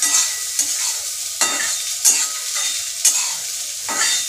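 Potatoes for a dry potato bhaji are stirred in a pan with a steady fry underneath, a spoon scraping and clacking against the pan in bursts about every second.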